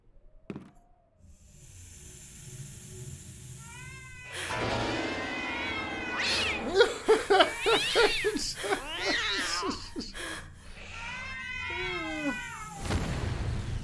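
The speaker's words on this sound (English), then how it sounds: "Run away from the cats." Several cats meow and yowl in quick succession inside the Wii horror game Ju-On: The Grudge, rising over a low, dark ambient drone, with a possible faint hiss mixed in.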